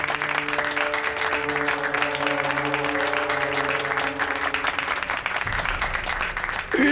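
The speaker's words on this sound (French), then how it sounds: "Applaudissons-les. Bravo." Sustained applause from a gathered group in a wedding scene of a TV series, dense and steady for several seconds with low background tones, ending with a brief louder rustle.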